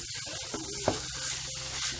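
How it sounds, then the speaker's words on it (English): Ground beef and onions cooking in a pan give off a steady, quiet sizzle, with a couple of brief scraping stir sounds partway through and no voices. "Add the ground beef to the pan and then we are going to cook it together with the onions until it breaks down."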